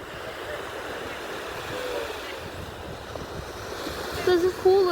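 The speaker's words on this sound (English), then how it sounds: "I just wanted to show you guys the ocean." Ocean surf and wind roll in a steady broadband wash close to the microphone, with gusts buffeting it and a voice briefly heard near the end.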